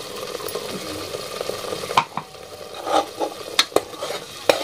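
Tomatoes frying and being stirred in hot oil in a pan, a steady close sizzle broken by several sharp spoon scrapes and clinks against the pan, with no talking.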